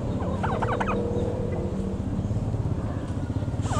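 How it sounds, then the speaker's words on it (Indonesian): A pair of turkeys gobble in a quick rattling burst, followed by low engine-like rumble and farmyard background noise. "Ini teman-teman ada ayam kalkun nih sepasang."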